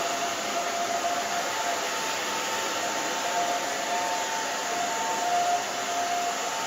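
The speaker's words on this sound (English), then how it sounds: "After that, we're just going to dry this down." A hair dryer blowing steadily while drying short hair, a constant close whooshing roar with a faint whine, unbroken throughout and without voices.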